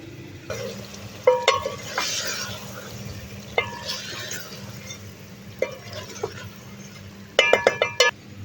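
Mixed vegetables, carrots, bitter gourd and potatoes, being stirred into roasted masala in a pan, with scattered metallic clinks of a spoon against the vessel over a soft background sizzle, busiest near the start and at the end.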